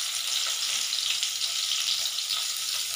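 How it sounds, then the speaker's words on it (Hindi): Chopped onion frying in a spoonful of oil in a kadai gives a steady, even sizzle with a soft hiss throughout, close and continuous, with no voices. "मेरा छोटा वाला एक प्याज काटे हैं छोटे छोटे, उसको अभी फ्राई करेंगे।"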